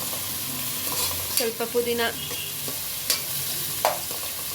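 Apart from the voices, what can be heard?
onions and mint frying in a pan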